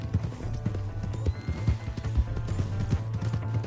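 Horse hooves clip-clop steadily at a gallop in Red Dead Redemption 2, a loud, rhythmic run of close hoofbeats alongside low rumbling game sound over nearly four seconds.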